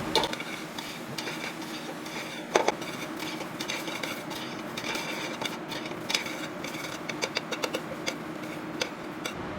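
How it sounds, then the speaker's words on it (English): Garlic and softened onion, pepper and celery being stirred in a pot for bison lentil stew, with a steady soft scraping and frequent light clinks of a utensil against the pot, up close and without talk. "I'm gonna go ahead and throw in the garlic. Stir for about 4 minutes."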